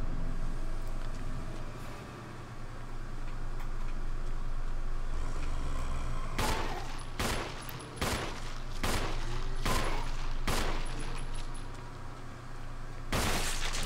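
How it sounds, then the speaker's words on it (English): Pistol shots fired at zombies in the Resident Evil 1 Remake video game: a run of sharp, loud gunshots spaced about a second apart over a low droning game ambience, with no talking. "I do want to kill them with my pistol."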